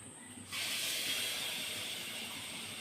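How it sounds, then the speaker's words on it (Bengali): Mango-batter pithas hitting hot oil in a wok on a gas stove: a quiet moment, then a sudden loud burst of sizzling about half a second in that settles into a steady, bright frying hiss. "এবার আমি আস্তে আস্তে পিঠেগুলো ভেজে নেব।"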